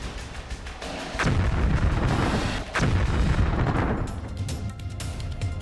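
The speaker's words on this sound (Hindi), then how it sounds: "राष्ट्रपति व्लादिमीर पुतिन ने यूक्रेन पर मिसाइलों की बौछार कर दी" Missile strikes and explosions in the Russia–Ukraine war: heavy, rumbling blasts roll in one after another as a loud, sustained barrage with deep booms and no speech.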